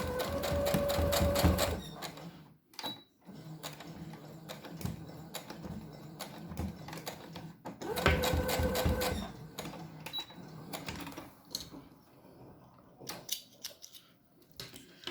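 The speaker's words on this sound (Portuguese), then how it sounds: "E costura até o final." Sewing machine stitching the edge of a fabric paintbrush roll, running in two loud bursts near the start and middle, with quieter handling noise and rustling between them.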